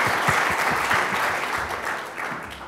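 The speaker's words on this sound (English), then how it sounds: "Round of applause." An audience at a tech startup showcase claps in a dense, steady round of applause that fades slightly toward the end.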